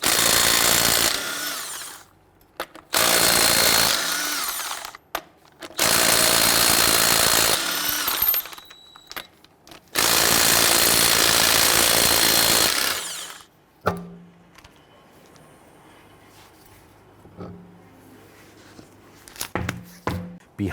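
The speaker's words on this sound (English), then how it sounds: "Using a 22mm socket, we're going to go ahead, loosen and remove our lug nuts." Impact gun loosening and spinning off the lug nuts on a 2007-2014 Cadillac Escalade rear wheel with a 22mm socket: four loud, sustained bursts of rattling, whirring power tool, separated by short pauses, then quiet clinks and handling noises.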